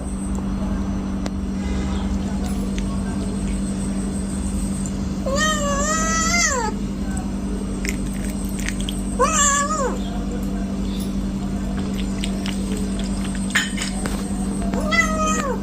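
A cat meows a few times, drawn-out cries spaced apart over a steady low hum, fairly close and moderately loud.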